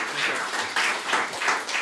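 A Dutch audience at a talk or panel event gives a warm round of applause, dense steady clapping at moderate volume across the short moment.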